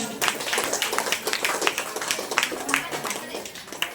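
A gathered audience clapping loudly in quick, uneven bursts of many hands, with voices mixed in among the claps.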